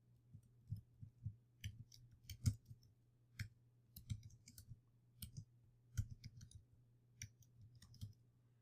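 Slow, deliberate typing of code on a computer keyboard: sparse, separate key clicks at an unhurried, irregular pace over a low steady hum, with no talking.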